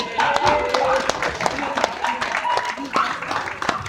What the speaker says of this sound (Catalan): un aplaudiment per la bufanda groga